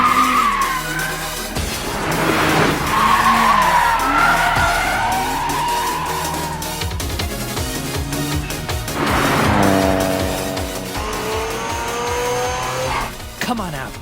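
A car drifts in the Initial D anime, tires squealing in long skids over a revving engine, loud and close, with people talking over it.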